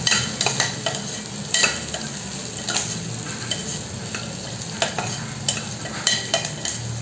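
Tomato bath masala fries in a pan, a continuous close sizzle broken by repeated scraping and tapping of a spoon as it is stirred, with no talk.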